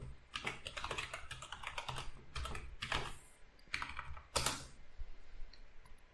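Fingers type a password on a computer keyboard in quick irregular bursts of close, crisp key clicks, with short pauses and a heavier keystroke near the end, no voices.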